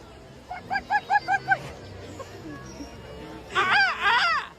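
A small toy chick-shaped duck gives a rapid series of about six squeaky quacks, close and clear, followed after a pause by a louder, longer burst of squawking honks, with people talking quietly around it.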